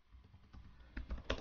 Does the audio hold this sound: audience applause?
no